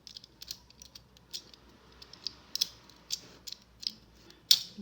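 A craft knife slices out small paper squares, giving a series of faint, sharp scraping clicks spaced irregularly over a quiet background.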